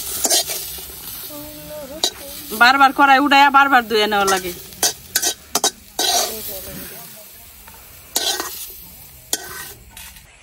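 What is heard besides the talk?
onion and garlic frying and stirred in a wok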